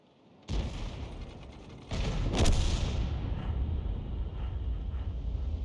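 Tank cannon fire in World of Tanks from a Lorraine 155 50 artillery vehicle: a sharp boom at the start, then a second heavier blast with a long rumbling tail, loud and close with no talking.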